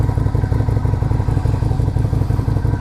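A Lifan Lycan 250 motorcycle engine runs close by, a rapid, even, thumping putter with a rough mechanical clatter, steady and loud with no talk over it.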